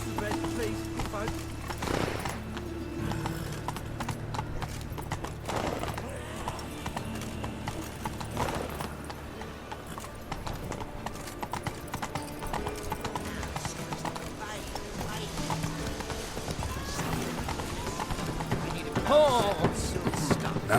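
The horse Roach gallops in The Witcher 3, its hoofbeats a continuous clip-clop rhythm under game music and ambience, with voices talking now and then.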